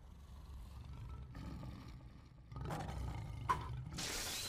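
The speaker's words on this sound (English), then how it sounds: "With the lion sounds and the red-black lightning, chill out." Lion-style roar effect from the Blue Lock anime, rising in bursts over a low rumbling bed, with a sharp accent and a final loud surge near the end.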